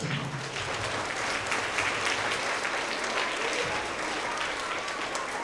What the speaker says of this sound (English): Let's have another round of applause for all of our 4th and 5th grade Tigers of the quarter.